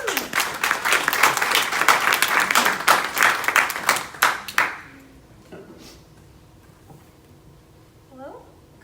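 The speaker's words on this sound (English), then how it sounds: "Let's give her a round of applause." An audience claps loudly for a few seconds to welcome Dr. Sam, the applause ending abruptly and giving way to a quiet room.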